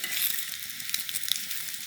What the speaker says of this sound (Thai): น้ำมันใส่ใส่ก้นกระทะไปหน่อยหนึ่งไม่ให้มันติด แล้วก็วางไส้กรอกลงไป คอยพลิก